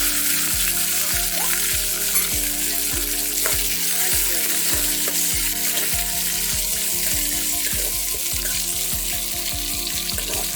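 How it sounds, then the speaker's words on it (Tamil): Mustard seeds spluttering and crackling in hot oil at the start of a Tamil cabbage poriyal stir fry, a dense steady sizzle with continuous popping and no talk. "கடுகு நல்லா பொரிச்சிச்சு"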